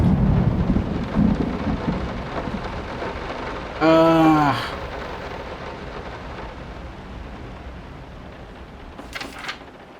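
Steady heavy rain hisses throughout in the video game Layers of Fear, with a sharp crackling rumble of thunder in the middle and another faint crack near the end.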